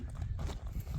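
A horse's hooves clip-clop close by on a farm where the horse is being shown for sale. The quick, uneven steps sit over a low, busy rumble of handling noise.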